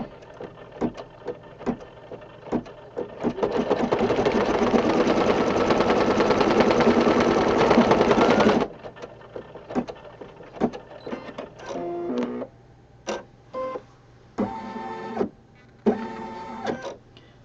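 An embroidery machine runs a placement stitch on a hug rug, giving a sustained loud mechanical buzz for several seconds, followed by sparse clicks and short stitching bursts.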